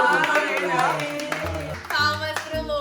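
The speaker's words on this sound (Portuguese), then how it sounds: "Palmas pro Lucas!" Several people clap briskly for a few seconds during a school-themed "Eu Nunca" tag game, with a bright close patter and talking over it.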